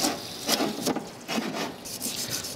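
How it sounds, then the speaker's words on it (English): Metal jaws and parts of a 4-jaw lathe chuck scrubbed clean by hand: close, irregular scraping and rubbing strokes that come in quick repeated bursts, with no talking. "We'll just scrub it up, and I'll do these jaws too."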